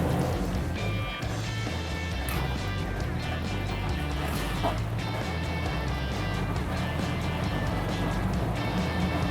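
The second engine of an M24 Chaffee light tank starts while the first is already running. A heavy, continuous engine rumble fills the space, broken by a few metallic clanks and knocks near the start.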